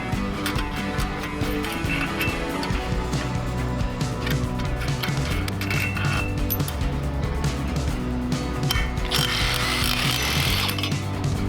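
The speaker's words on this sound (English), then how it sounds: "remove the valve cover, rockers, and push rods before removing the head." Metal parts of a Duromax 440cc small gasoline engine being worked on by hand, the valve cover, rockers and push rods coming off with steady ratcheting and clicking tool sounds and light metallic clinks throughout, close and continuous.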